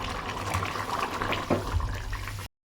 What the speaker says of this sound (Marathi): मस्त कलेजाला उकळी आलेली आहे आणि मस्त फ्लेवर देखील आलेला आहे